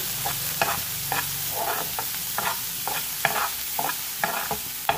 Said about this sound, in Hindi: बस इसे तड़के में ही डालनी थी दाल को, क्योंकि दाल तो हमने पहले से ही उबाइल कर ली थी।